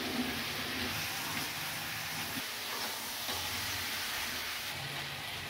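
Chicken pieces sauté in oil in a pan, a soft continuous sizzle and hiss with faint stirring underneath, quiet and steady throughout without speech.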